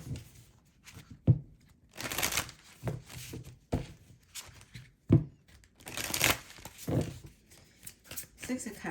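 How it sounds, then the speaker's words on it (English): Tarot cards being shuffled by hand, a run of soft papery riffles and flicks with a few sharper slaps, close and fairly quiet, with low murmuring or handling noise between bursts. "Let me shuffle."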